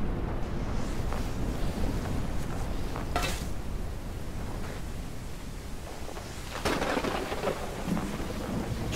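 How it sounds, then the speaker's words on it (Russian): Video-game thunderstorm in Snow Plowing Simulator: steady heavy rain with low rumbling thunder, and a couple of sharper cracks standing out over the constant downpour. "Чё и гроза. Вообще зашибись."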